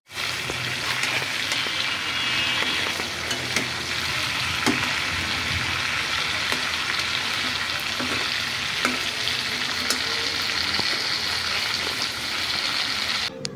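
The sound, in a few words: chicken pieces frying in hot oil in a wok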